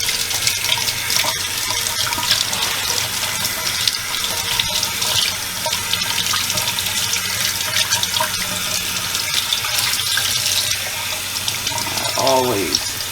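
Tap water gushes loudly and continuously into a sink as a chuck steak is rinsed under it, close up, with splashing changes and a brief voice near the end.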